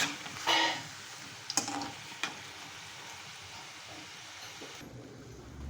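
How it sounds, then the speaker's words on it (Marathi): Colocasia leaf rolls (alu vadi) frying in hot oil give a steady, soft crackling sizzle throughout, with a few sharper pops and clatters from stirring near the start. "मला एकदम खुसखुशीत अशा वड्या तळत आलेले आहेत"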